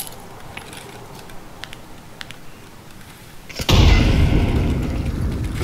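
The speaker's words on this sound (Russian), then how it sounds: "Даю гранату на третий." A grenade goes off in a multiplayer shooter game, one sudden loud boom that comes after a stretch of quieter background sounds and then rolls into a long, heavy rumble lasting to the end.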